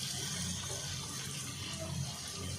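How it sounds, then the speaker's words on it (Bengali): Water poured into fried, well-cooked spice paste for a Bengali bhola fish curry makes a steady, close, hissing splash that runs the whole short moment without pause. "আমি এবারে কিছুটা পরিমাণ এর মধ্যে জল দিয়ে দেবো।"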